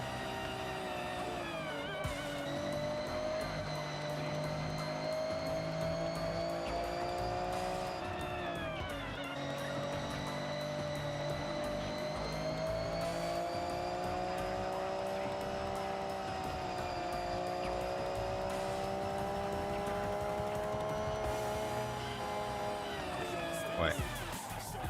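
A Honda-style VTEC car engine in Forza Horizon revs high and sustained, pitch climbing and dropping through gear changes over about 25 seconds, with a voice talking over it.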